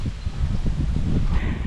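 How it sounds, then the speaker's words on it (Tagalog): Gusting wind outdoors at a warm fishing spot, a steady low blustery rush buffeting the microphone with a thin rustle of leaves above it, continuous and close. "Paingay no. Hangin yan"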